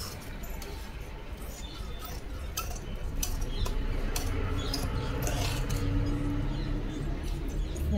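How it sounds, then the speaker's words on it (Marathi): Scissors snipping through blouse fabric during tailoring, a run of small crisp clicks and snips close by over a steady room background, with no one talking. "बघा मी आता तुम्हाला इथून एवढं कटिंग करून दाखवते।"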